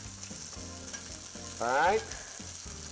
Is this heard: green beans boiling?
yes